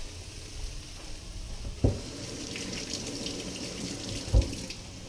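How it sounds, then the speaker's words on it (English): A zucchini gets a quick rinse under a running kitchen tap, giving a steady hiss of water in the sink with two brief knocks against the basin. "I'll take one, give it a quick rinse."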